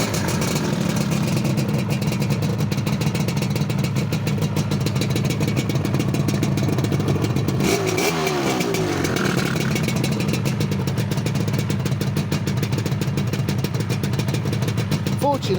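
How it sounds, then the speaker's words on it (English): A motorcycle engine with a rebuilt motor runs steadily throughout at a loud, close idle, with a brief rise in revs midway. "Do you want to start it up with Scott for the fans?"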